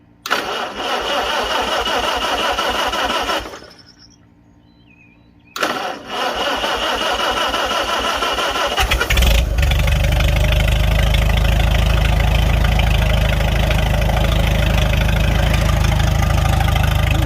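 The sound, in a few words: tractor engine starting and idling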